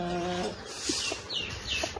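Chickens in a cow shed give a few soft, scattered clucks over faint background noise, quiet and somewhat distant, with a brief rooster-like call at the start.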